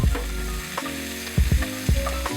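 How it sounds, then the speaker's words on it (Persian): Onions sizzle in hot oil in a pan for Iranian qeimeh nesar, a steady close frying hiss broken by several clattering stirs and scrapes of a utensil against the pan. "توش روغن میریزم تا اینکه پیازام رو سرخ بکنم"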